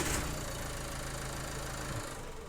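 A 2014 Renault Clio IV with a renewed battery that still won't start in the morning gives a steady, low mechanical drone from its engine bay as it is cranked over, which shifts and fades near the end.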